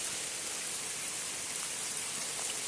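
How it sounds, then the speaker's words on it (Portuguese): Steady summer rain falling on a rural farm in Bahia, Brazil, a soft, even hiss of drops with no voices. "Está chovendo aqui ainda."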